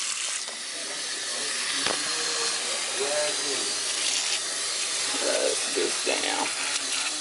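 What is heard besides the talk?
tap water running for washing a wig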